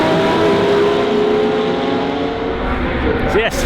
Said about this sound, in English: a race has just started, and they are pretty loud